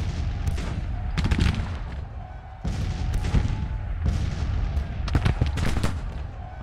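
Musket volleys from Civil War brigades in Grand Tactician, rolling crackling bursts of massed rifle fire repeating every second or so, with booming low rumbles between them, loud and continuous.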